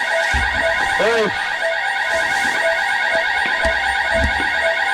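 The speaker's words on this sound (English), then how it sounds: "it seems some kind of alarm is set off" Loud electronic alarm blaring continuously in an empty backrooms-style corridor, a harsh pulsing buzz that holds steady, with a voice calling out briefly over it.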